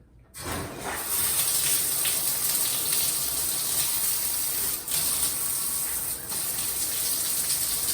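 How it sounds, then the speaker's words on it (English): Water runs steadily from a newly installed bathroom shower head, a loud continuous hissing spray that starts abruptly and holds for several seconds. "Let's turn on the shower, see how it goes."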